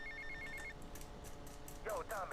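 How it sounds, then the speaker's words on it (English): A telephone rings in Grand Theft Auto Vice City, bursts of a repeating electronic trill over busy game sound and traffic, with a voice talking over it. "you'll get a long phone call, so you want to take it and glitch it"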